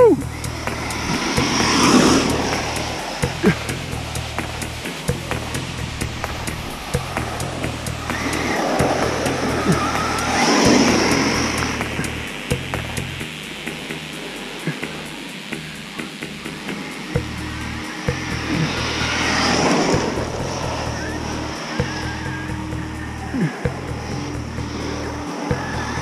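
ARRMA Mojave EXB RC car with a Hobbywing MAX8 ESC and 2200kv motor, run in cold weather, accelerating in repeated bursts; its electric whine rises and falls several times over a steady outdoor rumble, with someone talking at moments.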